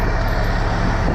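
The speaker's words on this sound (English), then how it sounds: "this truck's so loud, I'm sure it's hard to hear" Loud truck engine running during a loaded container job, a dense continuous rumble and roar filling the short moment at steady close range.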